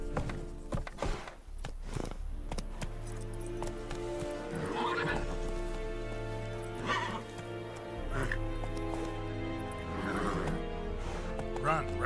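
A horse galloping with rapid hoofbeats and neighing in the Witcher 3 video game, continuous throughout, with spoken voices and game music layered over the hooves.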